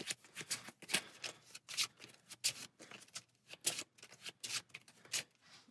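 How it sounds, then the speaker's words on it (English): Playing cards shuffled by hand during a Spider-Man and Venom card game scenario against Red Skull, a quick series of close riffling bursts with short pauses, quiet and alone. "Shuffle these cards up."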